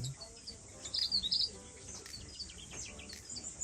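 Parrot finches in a New Zealand breeder's aviary chirp and tweet in quick, high bursts, a small flock calling softly with a louder cluster of notes early on.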